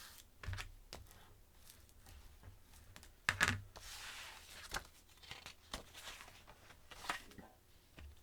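Paper sheets for a snowman-themed mini album being folded and handled at a craft table, with a sharp crisp crease near the middle and scattered soft rustles and taps, fairly close.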